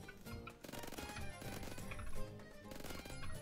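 Kriss Vector submachine gun firing in the Roblox-style shooter Phantom Forces, rapid automatic bursts over game music, fairly quiet and continuous.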